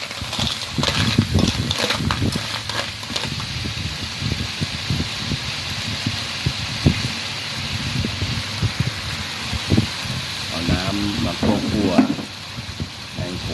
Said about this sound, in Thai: หอยลงไปเลยครับ เพื่อนครับ ผัดเข้าไปครับ เข้าไปครับ ทีนี้ก็เปิดไฟแรงนิดนึงครับ